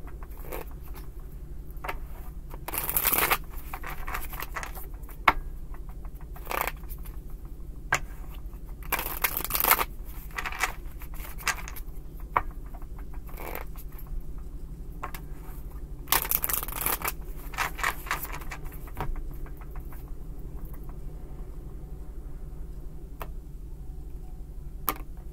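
Tarot cards being shuffled by hand, three rounds of riffling in quick bursts with soft papery flutters and taps between them, close and fairly quiet against a low steady background hum.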